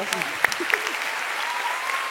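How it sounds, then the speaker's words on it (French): Theatre audience at a live comedy show claps and cheers in a dense burst, with a few sharp whoops and shouts standing out early before the applause settles into a steady wash. "On peut applaudir bien fort Bérangère Krief, Cyrus North, Suzanne et Gil"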